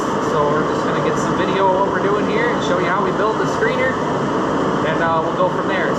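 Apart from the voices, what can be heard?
space heater running in a workshop in winter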